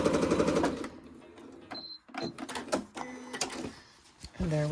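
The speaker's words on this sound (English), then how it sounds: "I'm going to sew down the other edge just to make it look nice and neat" A sewing machine stitches down the edge of a Halloween cushion cover, starting with a buzzing run under a voice and then settling into a series of sharp mechanical clicks and taps nearby.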